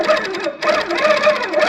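Home sewing machine quilting with a stitch regulator set to 11 stitches per inch, a steady close rapid whirring hum with a brief pause partway through, no voices.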